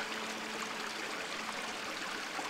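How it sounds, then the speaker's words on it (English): Steady rushing of a water stream flowing over rocks, a soft, even babble with no pauses and nothing else heard. "Do you see the way that it flows through the valleys? The way that it tumbles over rocks and logs, gravel?"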